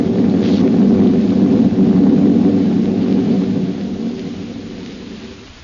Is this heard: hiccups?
no